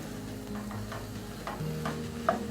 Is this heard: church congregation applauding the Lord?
no